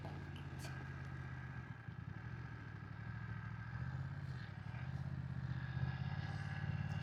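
A BMW F900R motorcycle engine runs at low, even revs during slow riding, a steady mid-level hum with faint mechanical clatter that rises slightly toward the end.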